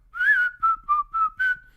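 A person whistles a short tune of five clear notes, the first drawn out with a slight rise, the rest brief and evenly spaced, close and fairly loud with no talk.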